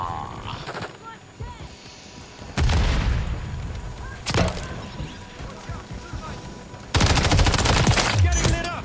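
Grenade blasts in Modern Warfare 3 gameplay, with three loud, sharp bursts rising out of a steady bed of gunfire and battle noise, the last one running into a sustained roar.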